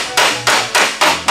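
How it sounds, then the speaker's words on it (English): Hammer blows flatten a crush-bent box section on a 1969 Volkswagen Karmann Ghia during rust repair, five loud metallic strikes evenly spaced about a quarter-second apart, close and ringing alone. "This box has been bent from being crushed in, so what I'm doing is I'm hammering that down"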